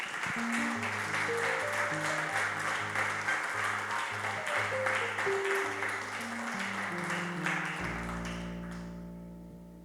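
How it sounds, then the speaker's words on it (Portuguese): Church congregation applauding during a sermon, a long steady wash of clapping over soft sustained organ or keyboard chords, fading out near the end as the keyboard holds alone. "Dá uma salva de palmas para Jesus"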